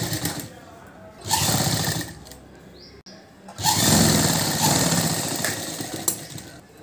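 A sewing machine stitches a cross piece at the neck of a lined chudidar, two bursts of rapid close mechanical whirring separated by a quiet pause, the second burst longer.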